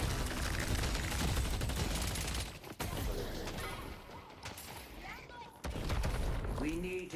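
Rapid bursts of gunfire from the video game Deadlock crackle densely, with sharp broadband cracks and booming hits layered under voices and scattered game effects.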